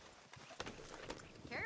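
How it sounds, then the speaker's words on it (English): Horse hooves clip-clop in the Red Dead video game, near a Gray Snowcap Appaloosa, a steady walking beat of soft thuds with a brief whinny-like tone near the end, under other game sounds. "Charles has this Gray Snowcap Appaloosa horse right over there."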